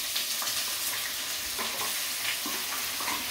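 Bay leaf and dried chili fry in hot oil in a pan, giving a steady, close, hissing sizzle with faint occasional clinks and stirring sounds, and no talking.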